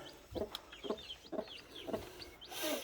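A broody Buff Orpington hen in a straw-filled brooder box gives four or five low, evenly spaced clucks, close and soft, with a rustle at the end.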